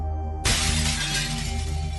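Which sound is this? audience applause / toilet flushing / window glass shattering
window glass shattering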